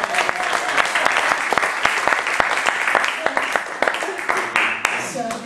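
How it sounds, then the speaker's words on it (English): Applause from an audience at a spiritual talk in Spain fills the room, steady dense clapping held at even loudness the whole way through, with faint voices underneath. "I think it's worth another applaud."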